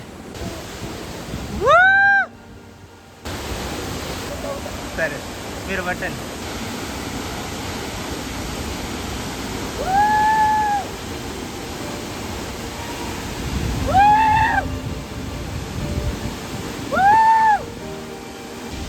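Steady broadband rush of a high waterfall at a remote forest spot in India, loud and continuous, with people talking over it through most of the stretch.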